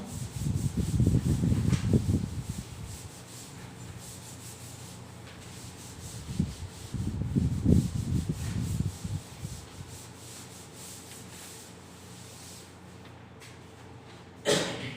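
Someone erases writing from a board during a class 12 maths lesson on inverse trigonometric functions. Two long bouts of close, brisk back-and-forth rubbing sweep across the surface, separated by quiet and ending with a brief knock.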